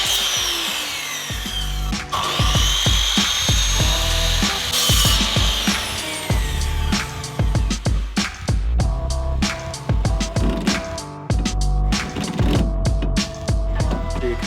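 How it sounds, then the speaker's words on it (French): Metabo plunge saw started up and lowered into wood: a loud, steady power-tool whine that drops into a rough, grinding cut, with rattling and clattering bursts through the cut, close and continuous. "On va mettre en route la lame avant de rentrer dans le bois."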